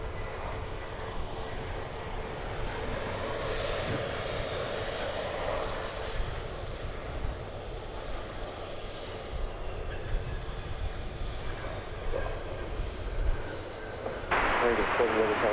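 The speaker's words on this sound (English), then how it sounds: "This is American Flight 2342 coming in from San Antonio, Texas, an Airbus A321" American Airlines Airbus A321 arriving from San Antonio and landing at DFW Airport, a steady distant roar of jet engines heard from a plane-spotting spot, with a person talking over it.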